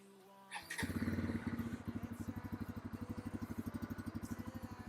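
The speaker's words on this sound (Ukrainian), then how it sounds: "Давайте заведемо цей двигун." A Bajaj Pulsar motorcycle engine cranks and catches, then settles into a steady, loud idle with rapid rhythmic exhaust pulses.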